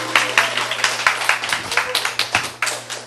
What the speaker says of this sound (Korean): 이 두 형제님을 박수로 맞이해 주시기 바랍니다